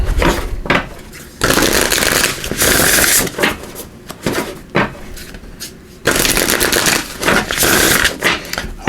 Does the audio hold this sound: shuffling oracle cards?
yes